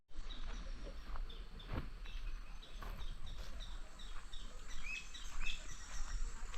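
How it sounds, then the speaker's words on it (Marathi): Birds calling near a river, with short high chirps scattered over a faint steady outdoor background and a few nearby knocks. "पक्ष्यांचा आवाज बघा"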